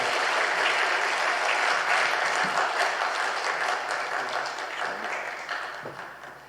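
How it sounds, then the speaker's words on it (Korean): A church congregation applauds warmly to welcome a guest professor at a Sunday afternoon service, sustained loud clapping from a full room that slowly fades toward the end. "우리 따뜻한 위로와 격려의 박수로 우리 심재창 교수님을 환영하겠습니다."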